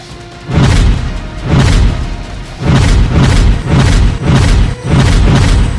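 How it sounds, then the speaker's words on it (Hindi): Mirchi bomb firecrackers going off in a Hindi film scene, a run of six loud booming blasts, each with a short ringing decay, spaced irregularly and very close. "मिर्ची बम"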